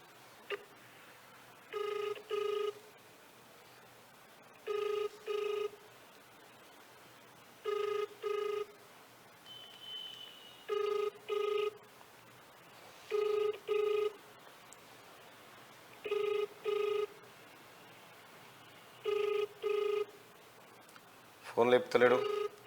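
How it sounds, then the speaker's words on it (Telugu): A telephone rings on a call nobody answers. Evenly spaced double-burst rings repeat about nine times against a quiet background, followed by a short clatter at the end. "ఫోన్ లేపుతలేడు."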